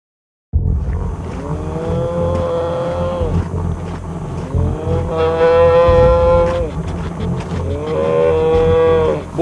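Cattle on a low-country ranch low out in three long, loud moos, each a drawn-out bellow with a falling tail, separated by brief gaps over steady background rumble.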